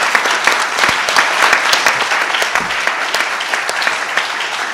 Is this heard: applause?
yes